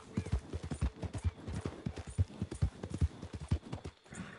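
Horse hooves clip-clop in a steady, rapid rhythm in Red Dead Redemption 2, moderately close and even, with no speech over them.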